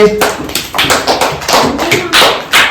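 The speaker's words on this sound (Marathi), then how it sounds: "टाळ्या वाजवा त्यासाठी" Children in a classroom clap their hands, about seven loud, close claps in a quick, slightly uneven rhythm.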